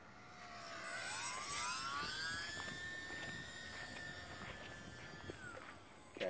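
A small E-flite J-3 Cub UMX radio-controlled plane makes a slow low pass, its thin electric motor whine rising in pitch as it approaches and holding steady, faint and somewhat distant outdoors, ending with a brief bump of handling noise.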